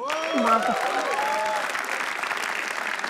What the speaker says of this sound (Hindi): तो एक बार पवित्रा के लिए तालियां हो जाए फिर